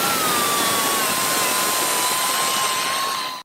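A non-aggressive Scotch-Brite pad sands the front of an aluminum instrument panel with a steady, loud abrasive hiss and a constant whine. It runs unbroken for a few seconds before cutting off sharply.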